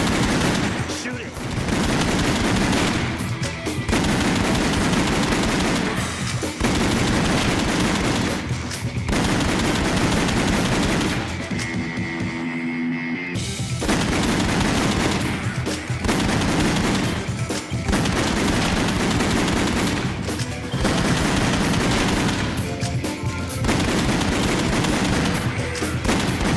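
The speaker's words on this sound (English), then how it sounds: "Shoot it." Dense gunfire from the House of the Dead Overkill video game fills the scene, rapid machine-gun bursts that run almost without a break, loud and close, broken by brief pauses, with game voices mixed in.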